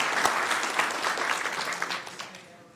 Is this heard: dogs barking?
no